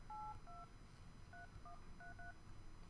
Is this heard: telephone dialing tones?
yes